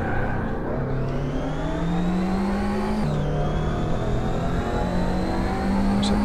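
Race car engine in the TORCS open-source driving simulator, a continuous whining drone that climbs in pitch through the gears, drops at a shift and rises again, steady and loud with no talk.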